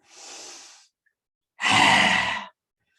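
Two breathy exhales during a yoga breathing exercise, a softer airy one followed by a louder, rougher rasping breath pushed out through the throat, close and with no talking.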